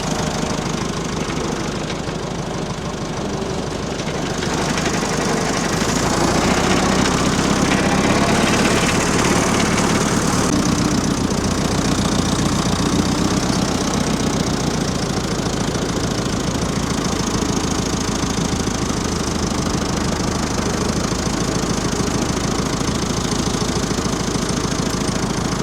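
The engine of an old Drott cabriolet loader idling, a continuous rough, loud mechanical rumble with a knocking texture that swells slightly after the first few seconds and then runs on steadily.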